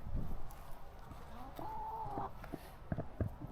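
Backyard chickens in a homestead coop, a few soft clucks and one drawn-out call near the middle, close by over steady outdoor background noise, no talking.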